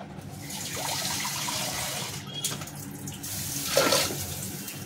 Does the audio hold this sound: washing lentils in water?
yes